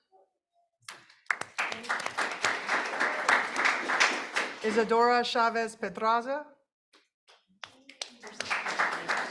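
A school board meeting audience claps for students being recognized, a steady patter of hands running beneath a speaker who reads names aloud over a microphone, with a short pause before the clapping and talking pick up again.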